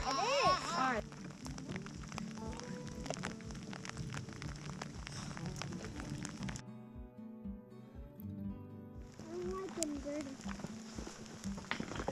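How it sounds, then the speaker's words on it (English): Steady rain falling on a mountainside stretch of the Appalachian Trail, a dense hiss of drops spread through the whole clip with people talking over it. "the rain's picking up more"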